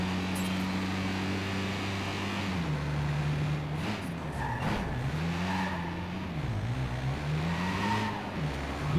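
Car in the video game Watch Dogs 2 drives with a humming engine whose pitch rises and falls as it corners, with tire squeals cutting in repeatedly, close and alone without talk.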